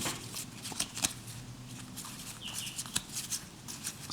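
Jurassic Park trading cards are handled up close in a quiet room, giving soft, irregular flicks, rustles and light taps that come and go throughout.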